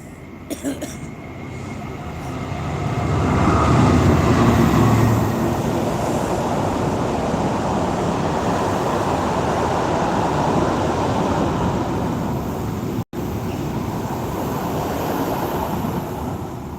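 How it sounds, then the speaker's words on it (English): A train rumbles past nearby at night, a loud sustained roar that swells early and then holds steady for many seconds, briefly cutting out near the end. "Excuse the train."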